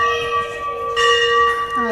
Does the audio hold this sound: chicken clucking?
no